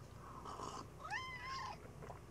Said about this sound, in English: Is my cats even commenting?